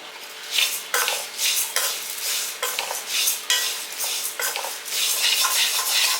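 Dal and curry leaves dry-roasting in a pan, stirred steadily with a spoon: repeated scraping and rattling strokes of metal against the pan over a light sizzle, close and fairly loud, with no voices.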